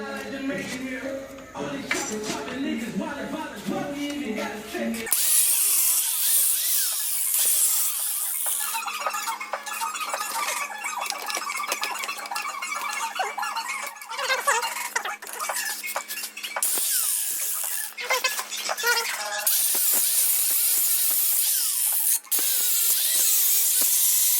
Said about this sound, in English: So I'm just gonna start cutting right here.